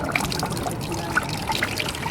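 Water trickling and splashing as a 1994 Yamaha FZR600 motorcycle radiator is filled during a coolant change, a steady close gurgle with small drips and no talking.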